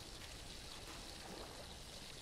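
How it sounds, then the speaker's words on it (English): Water pours steadily into a water jug in the video game Blight, a faint, even hiss-like stream that runs unbroken the whole time with no voices. "We're going to fill this with water, and then I guess we add salt."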